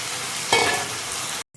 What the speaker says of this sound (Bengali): এবার এতে ডালটা মিক্স করে দেবো।